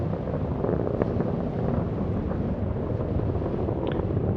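A steady, dense low roar from an Atlas V rocket with its RD-180 engine launching the Boeing Starliner, rumbling continuously and loudly without pauses, mixed with wind buffeting.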